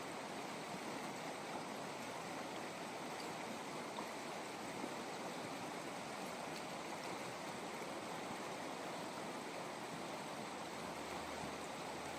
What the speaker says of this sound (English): This is the Fremont River, and it goes all the way around Capital Reef.